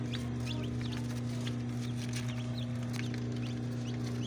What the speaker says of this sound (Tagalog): Fighting cock chicken.